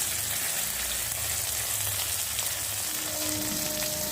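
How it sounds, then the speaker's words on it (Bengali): Onion frying in a pan with ginger and cumin paste added, a steady soft sizzle running throughout, fairly close, with faint clinks of a utensil and no talk. "দেখো পেঁয়াজটা ভাজা ভাজা হয়ে গেছে আর এখন এর মধ্যে দেবো আদা আর জিরে বাটা"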